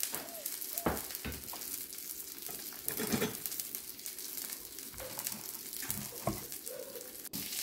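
Garlic and onion sautéing in a pan for a Filipino bamboo shoot dish, a faint steady sizzle with occasional soft clinks and stirring taps throughout.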